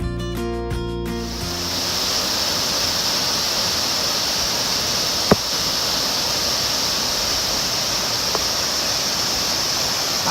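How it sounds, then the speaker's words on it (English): Long Creek Falls, a waterfall swollen by heavy rain, roars as a steady, loud broadband rush of falling water that fills the whole clip, with a brief musical sting at the start and a couple of faint clicks. "This is Long Creek Falls. And thanks to the heavy rain, it's just beautiful."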